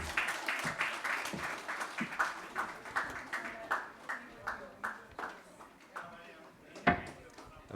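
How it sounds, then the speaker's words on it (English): Scattered clapping at a pediatric conference ceremony honoring a newly elected president, a sparse, irregular series of individual claps that taper off, fairly quiet and distant in a hall. "A big round of applause for him."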